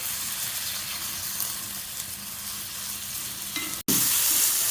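Green chilli and tomato sauté in a pan for chicken varuval, a steady close sizzle with stirring, cut off by a brief dropout before the frying returns louder and brighter, with no talking.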